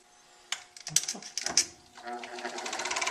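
An out-of-balance furnace blower motor spins up after a few clattering knocks, building into a fast, rhythmic wobbling pulse that grows steadily louder, heard close up.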